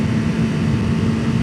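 Motorcycle engine running steadily while the rider shifts up and adds throttle going downhill, a continuous low droning rumble with little change across the short stretch.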